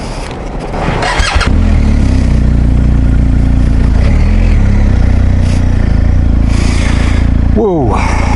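A BMW R1250 GS HP motorcycle starts and its boxer engine rumbles loudly and steadily close by, a deep low drone with throttle swells and a brief squeal near the end, while a voice sounds faintly underneath.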